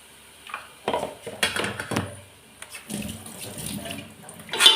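Biryani masala with ground tomato is stirred in a pan for a chicken biryani, producing a run of close, uneven scraping and wet clattering strokes with short pauses between them.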